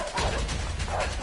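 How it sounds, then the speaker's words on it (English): Dogs chasing players in the video game A Way Out, a loud, steady stretch of barking and yipping filling the short moment with no gaps. "Run, run, run! Fucking dogs!"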